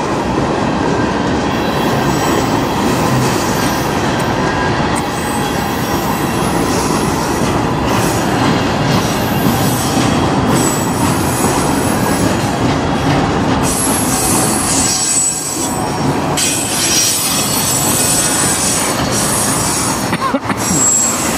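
A BNSF C44-9W locomotive hauls a manifest freight train past up close, a loud continuous roar of rolling cars with rhythmic wheel clatter and sharp metallic wheel squeals rising near the end.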